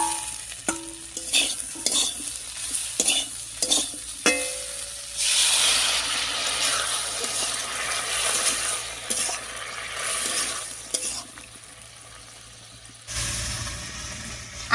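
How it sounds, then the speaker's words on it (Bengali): Fried pointed gourd being stirred into a pan of potatoes, with clacking spatula scrapes and stirring, then a burst of sizzling as spice paste water hits hot oil, steady bubbling frying and another loud hiss near the end. "এবারে ভেজে রাখা পটল দেবো, আর দেবো মশলা বাটার জল, আর মশলা বাটার জল দিয়ে বেশ কিছুক্ষণ রান্না করে নেব।"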